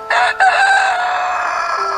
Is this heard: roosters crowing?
yes